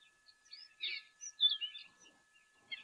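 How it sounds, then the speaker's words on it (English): Soft bird calls and chirps drift in at a wild waterhole, several faint, scattered tweets from different birds with quiet gaps between them. "You say you are loving the background bird calls."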